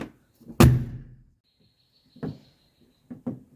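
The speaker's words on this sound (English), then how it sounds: "I can pull the door open by grabbing this loop" Door of a 1982 Mercedes 300D pulled open by its interior loop: a loud close latch clunk, then a few softer knocks and clicks as the door moves, with a faint whine between.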